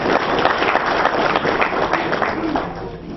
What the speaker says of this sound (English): can we please have a round of applause for them once again